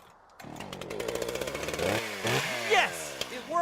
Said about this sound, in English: I would think oil the chainsaw, whatever.